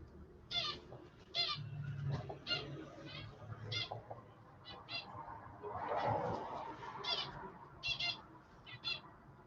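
A pet bird hops about and gives repeated short chirping calls in bursts throughout, fairly close, mixed with a person talking quietly while painting.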